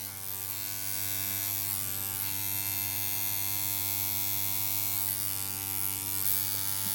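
A Jackhammer rotary tattoo machine running on a battery adapter gives off a steady, close electric buzz with a strong hum that holds evenly throughout, with no voices.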